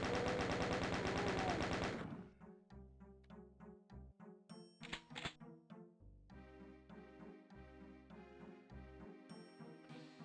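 Rocket launcher and other weapons firing in Doom II: a dense burst of game noise up front, then repeated sharp shots and blasts over game music, loud and close.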